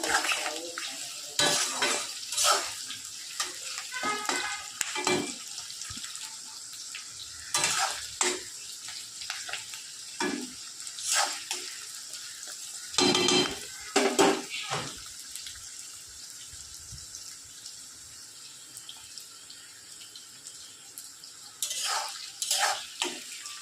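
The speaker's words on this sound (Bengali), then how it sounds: "ফ্রাই করে নেব।" Chicken fries with a little salt in a pan on a home stove. A soft sizzle runs underneath while a utensil stirs and scrapes, giving irregular metallic clanks and knocks, with a few louder clatters spread throughout.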